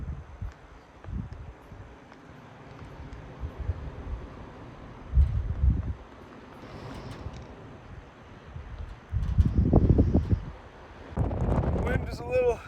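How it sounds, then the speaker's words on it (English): Strong wind buffets a mountain summit in the Catskills, roaring in irregular gusts across the microphone with deep rumbling bursts, loudest near the end. "Wind is a little crazy up here today"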